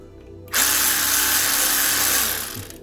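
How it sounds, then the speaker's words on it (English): An electric ratchet removing an air pipe from a 2.8i Ford Capri engine, a loud steady high whirr that starts abruptly after a brief quiet moment and runs for about two seconds before winding down. "The old electric ratchet going like the clappers."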